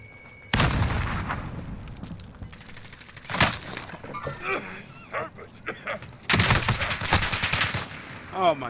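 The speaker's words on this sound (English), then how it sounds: "Friendly precision airstrike inbound." Explosive airstrike bursts in Call of Duty: Modern Warfare, loud crashing blasts with shattering debris arriving in three heavy waves, separated by quieter stretches of game sound and players talking.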